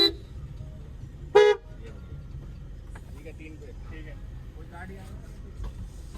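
A car horn sounds once, short and fairly loud, at the start of a Honda City versus Baleno drag race, with engines idling and people talking nearby.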